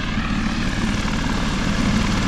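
A helicopter flies along Australia's Great Ocean Road, its steady, loud rotor and engine drone holding evenly throughout with no voices.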